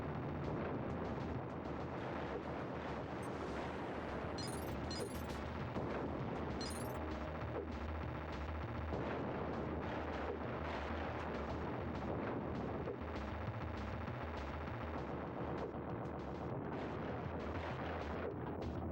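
Cannons fire in the SNES game Time Slip, a constant barrage of booming blasts and crackling explosions layered over game sound with no pauses.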